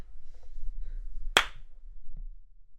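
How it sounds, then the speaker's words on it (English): A single sharp, close clap rings out once in a quiet radio studio, with only faint room noise around it. "Clap for that."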